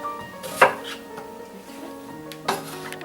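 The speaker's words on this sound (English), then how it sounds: "I've chopped all my vegetables" A knife chops vegetables and bacon for a chunky couscous in a kitchen, with two sharp, separate board strikes over quiet background sounds.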